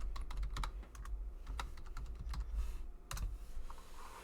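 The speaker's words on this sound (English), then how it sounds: "Hold on, I'm just typing." Quick, irregular clatter of computer keyboard keys being typed on, close and fairly quiet, with short pauses between bursts and no voices.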